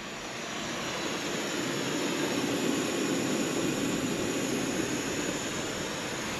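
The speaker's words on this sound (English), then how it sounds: "Just using the jet boil." A Jetboil camping stove burner heats water for morning coffee at a beach campsite, giving a steady, close, rushing roar that holds evenly throughout with no talking.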